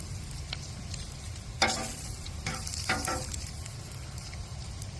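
Sausage patties and hash browns sizzle in a pan during a home breakfast cook, a steady close crackle with a few louder bursts of spitting and stirring, no talk.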